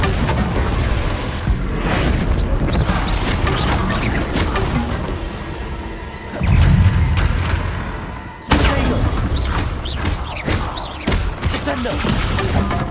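A Confringo fire blast spell exploding in Hogwarts Legacy, loud crashing booms and smashing impacts packed densely over a busy game background, with a brief lull midway before the blasts resume.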